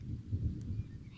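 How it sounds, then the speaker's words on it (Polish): Low rumbling thunder from a storm overhead rolls through the whole moment, a deep steady grumble with swells rather than a sharp crack, heard alone without talk. "jak nawalają te pioruny"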